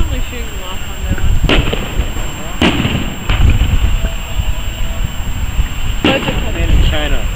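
Fireworks are set off one at a time, each launch a sharp crack or thump standing out from steady outdoor noise, with about four distinct bursts spread irregularly across the stretch and people talking in the background.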